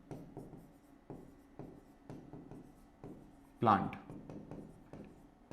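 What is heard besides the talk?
writing on a board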